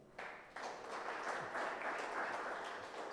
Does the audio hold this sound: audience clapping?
yes